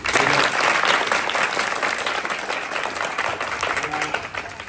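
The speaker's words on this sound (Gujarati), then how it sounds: "વાહ વાહ, તાળી પાડો." An audience of senior citizens claps together at a book-donation gathering, a loud, dense burst of applause that slowly fades over a few seconds.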